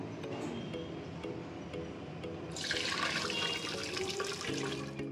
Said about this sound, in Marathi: आता आपण ही डाळ आहे त्याच्यातलं पाणी पहिलं काढून घेऊया